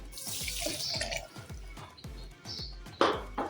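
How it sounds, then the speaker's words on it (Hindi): Water poured from a glass into a blender jar holding a guava and papaya juice mixture, a close, steady splashing pour with uneven gurgles and a brighter splash near the end, no talking. "इस वक्त मैं इसमें 1 गिलास पानी डाल रही हूँ"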